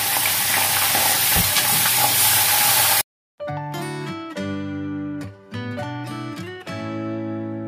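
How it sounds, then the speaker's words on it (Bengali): Chicken marinated in yogurt, ginger, garlic, onion, green chilli and salt hisses loudly in a hot kadai with potatoes, a dense sizzle lasting a few seconds before it gives way to melodic music. "দেখো ম্যারিনেট করে রাখা চিকেন দিয়ে দিলাম কড়াইয়ের মধ্যে।"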